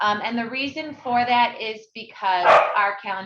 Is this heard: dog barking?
yes